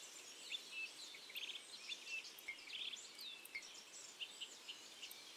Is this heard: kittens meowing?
no